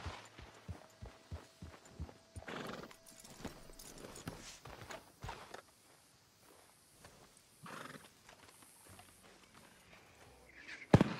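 Horse hooves while riding through a swamp in Red Dead Redemption 2: a quick, regular clip-clop close up, then a snort and scattered thuds, a quieter stretch, and a sharp sound at the end.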